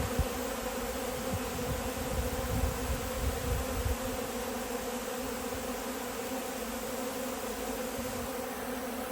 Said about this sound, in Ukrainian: Трошки і осів теж є, невелика кількість.